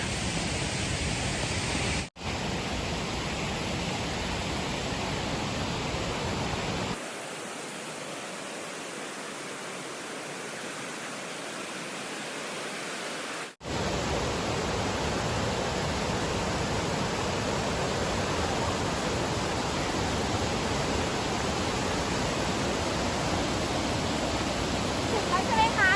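First tier of Sapan waterfall in Nan, a steady broadband rush of falling water that fills the whole clip, dipping quieter for several seconds in the middle before returning at full strength.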